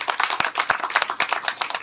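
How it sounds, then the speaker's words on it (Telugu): Loud, close clapping from a church prayer congregation, a burst of sharp, irregular claps running throughout with no talk over it. "ఒకసారి గట్టిగా చప్పట్లు కొట్టండి."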